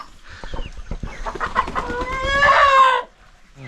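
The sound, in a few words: chickens clucking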